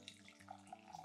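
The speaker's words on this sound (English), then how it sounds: "I'm just gonna pour this into my jug" Freshly brewed plunger coffee poured from the press into a jug: a quiet, steady liquid trickle and splash lasting about a second, with no talk.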